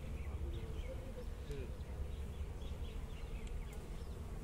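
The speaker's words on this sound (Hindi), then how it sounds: "ये मधुमक्खी" Honey bees swarm around open hives at an outdoor beekeeping workshop for farmers and agriculture students, a steady droning buzz with some faint voices in the background.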